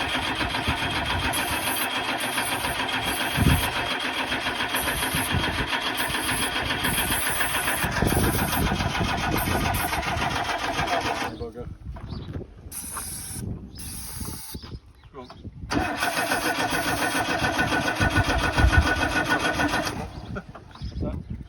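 An old car engine, off the road for 33 years, cranking and turning over noisily for several seconds, stopping, then briefly running again amid pauses and quiet voices.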